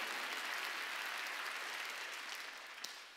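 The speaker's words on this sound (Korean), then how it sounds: "박수 치라야." Congregation in a church worship service applauding together, a dense steady wash of many hands clapping that holds loud for a few seconds, then eases slightly toward the end.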